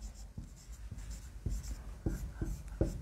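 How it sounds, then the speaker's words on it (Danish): Pen or pencil writing a name by hand on paper, close and quiet, with a series of short scratchy strokes and taps in an uneven rhythm and no talking. "Jeg kan skrive opp navnet hvis noen er interessert i henne."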